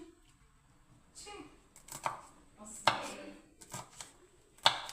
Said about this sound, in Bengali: এই দেখুন বন্ধুরা ছোট্ট ছোট্ট করে লঙ্কাটা কেটে নিচ্ছি